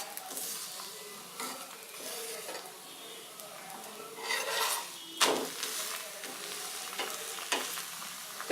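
Coconut puran poli frying in oil on a medium flame, giving a soft, steady sizzle with occasional stirring scrapes and a few sharper pan clicks, fairly quiet throughout.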